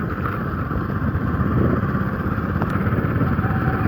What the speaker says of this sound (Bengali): এখন আমরা যাচ্ছি বাইকে করে।